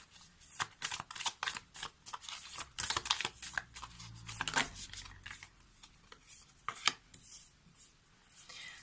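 Lenormand cards are shuffled close to the mic in a dense run of crisp riffling, flicking and papery slaps, uneven in rhythm and heard alone with no talking.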